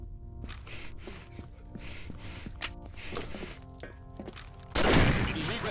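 Gunfire in the Combat Arms online shooter, a rapid series of sharp shots spread over several seconds with a louder burst near the end, mixed with game effects and some speech underneath.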